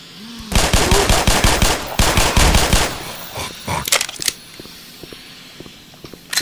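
Gunfire in the first-person shooter Black Mesa, a rapid run of loud blasts in quick succession for a few seconds, then a few scattered shots and metallic clatter that fade into quiet.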